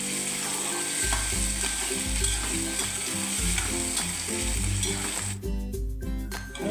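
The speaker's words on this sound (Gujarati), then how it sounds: "બટેકા છોટે નહીં એટલે સખત હલાવવાના છે નકર કઢાઈ સાથે છોટી જાય" Potatoes frying in a kadai while being stirred hard, a steady sizzle with scraping spoon strokes against the metal, heard over a looping rhythmic music track.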